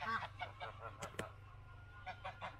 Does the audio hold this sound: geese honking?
yes